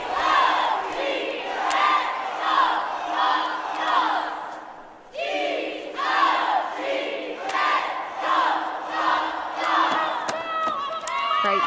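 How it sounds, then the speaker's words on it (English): Loud arena crowd cheers and chants in rhythm with a high school cheerleading squad at a state competitive cheer final, voices shouting in steady waves with a brief dip midway before surging again. "Great use of stunting to get the crowd involved."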